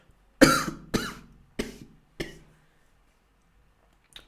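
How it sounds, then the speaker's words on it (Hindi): Four sharp coughs from a cold in quick succession, close and fairly loud, each trailing off, followed by silence. "ठंड की खांसी है, कोरोना नहीं है।"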